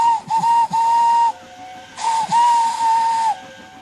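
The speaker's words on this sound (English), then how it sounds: "Everyone knew that whistle" Two long, shrill steam locomotive whistle blasts, each breaking into short toots before a sustained tone, hissing loudly and close by.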